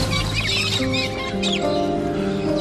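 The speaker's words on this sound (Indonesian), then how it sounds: "Mereka terbangun karena suara burung-burung." Morning birdsong in a film scene, mixed with chirps and clucking calls layered over sustained musical tones.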